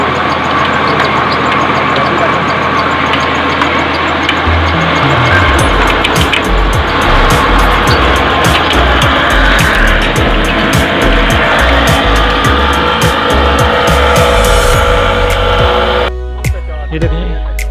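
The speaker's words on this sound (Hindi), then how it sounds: "ये ट्रैक्टर के साथ इन्होंने लगाई है, चक्की चल रही है" A tractor-driven flour mill grinds wheat in a village, a loud continuous mechanical roar and rumble with engine drone running throughout, nearby and unbroken until a brief shift near the end.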